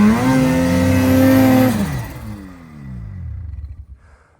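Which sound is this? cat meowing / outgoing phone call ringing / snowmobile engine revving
snowmobile engine revving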